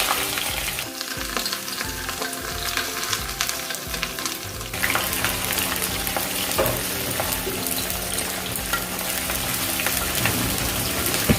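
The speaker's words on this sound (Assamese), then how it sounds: "পিঁয়াজখিনি গোল্ডেন ব্ৰাউন হোৱালৈকে মই এনেদৰে অলপ সময় ভাজি থাকিম।" Onions fry in oil with cardamom, cloves and cinnamon for a mutton curry, a continuous close crackling sizzle that swells louder midway and keeps going steadily, with occasional stirring.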